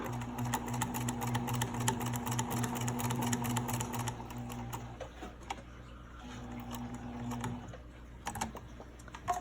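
A sewing machine stitches fabric closed with a few short back stitches, its rapid mechanical ticking running steadily for about four seconds before slowing and pausing, then restarting briefly, with a faint hum underneath.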